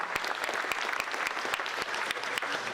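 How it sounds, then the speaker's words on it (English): A crowd at a 2018 senior awards ceremony gives a round of applause, steady, close clapping with a few sharp individual claps standing out, heard alone without talk. "I just want you to give her a big round of applause for pulling it all together"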